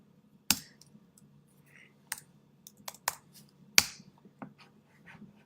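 Sparse, hesitant typing on a computer keyboard nearby, a handful of sharp isolated key clicks spaced irregularly over a few seconds against a quiet background hum.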